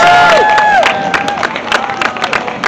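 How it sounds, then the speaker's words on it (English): Crowd at a veterans-themed rally in Welland, Ontario applauding and cheering a podcaster being introduced, a dense burst of clapping with whoops, loud at first and thinning out over the few seconds. "give him a round of applause"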